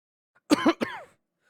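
A single harsh cough in two bursts from a young man collapsing in a grassy field near a hospital, in the game Tsukihime; close and fairly loud, with silence around it.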